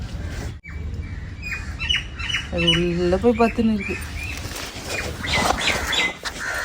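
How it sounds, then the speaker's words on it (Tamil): A koel calls from a coconut tree in a burst of repeated, harmonic squawking notes close by, while a person talks around and over the bird. "நம்ம தென்னை மரத்தில் வந்து குயில் கத்திட்டு இருக்கு."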